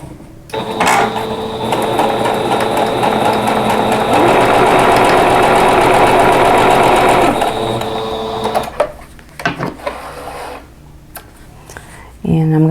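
A sewing machine runs loud and steady, stitching a quarter-inch seam on a tulip quilt block, a rapid whirring motor with needle clatter, then stops and gives way to rustling fabric and clicks.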